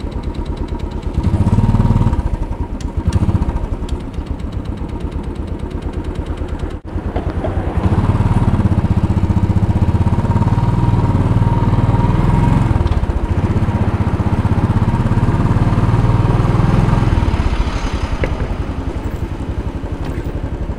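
A Royal Enfield Bullet 500 single-cylinder motorcycle thumps through downtown New York City streets on a cold day, its loud, close engine pulsing in a steady beat, dropping back briefly and then revving up and holding speed, with no talking.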